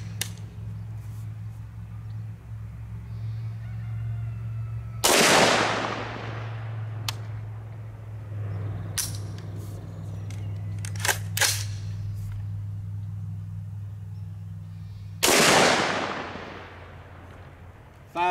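A Bear Creek Arsenal .458 SOCOM rifle fires outdoors, giving two loud, sharp blasts well apart, each followed by a short decaying echo, over a steady low rumble with a few faint clicks between the shots.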